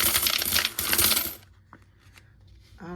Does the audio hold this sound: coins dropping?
yes